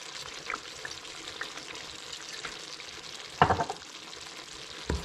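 Beef curry is stirred in a pan over a steady soft sizzle, with a single louder scrape and clatter of the spoon near the middle and a faint knock at the end.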